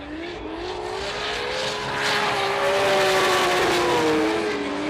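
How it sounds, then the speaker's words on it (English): Drift cars launch from the start line at Fuji Speedway in a Formula Drift Japan top-16 battle, a Monster GR86 leading an A90 Supra, engines revving in a rising, wavering whine that swells louder as they pull away, with no talk over it. "at the line now, we have Masayama in the lead with Ever Racing in his Monster GR86"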